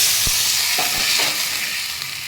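Mustard seeds, cumin and curry leaves sizzle loudly in a hot tempering as water is poured in, a steady hiss broken by a few sharp pops and crackles.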